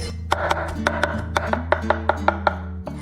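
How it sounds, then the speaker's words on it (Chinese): A knife chops smashed garlic and ginger into mince on a cutting board while stir-fried pickled cabbage with shredded pork is being prepared. About a dozen close, crisp strikes fall in an uneven rhythm over a steady low background tone. "准备适量的大蒜跟生姜，我们拍碎切成末。"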